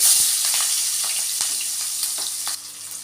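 Onions sizzle and crackle in hot oil with cumin seeds and green chillies for an egg fry, a steady broadband hiss with scattered sharp pops and a few stirring scrapes, close and loud, with no talking.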